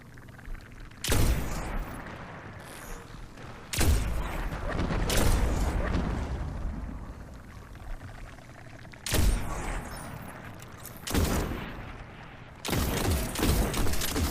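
Enemy gunfire crackles in Destiny's Crota's End raid, several loud bursts of rapid shots and booms separated by quieter stretches of game ambience, close and punchy.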